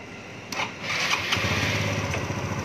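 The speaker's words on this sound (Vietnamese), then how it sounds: "Đó ạ, nổ máy thử coi sao." A Honda Novo scooter engine, just fixed at its ISC valve, cranks and catches, settling into a steady close idle with a low throbbing hum.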